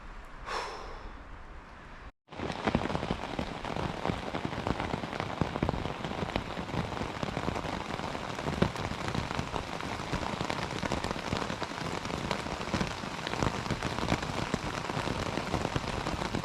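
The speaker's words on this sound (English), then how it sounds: "Brutal, non-stop rain" Heavy, non-stop rain pours down on a hilly Welsh bikepacking route, a dense, loud, continuous hiss after a brief quieter start, with occasional soft breaths or sighs mixed in.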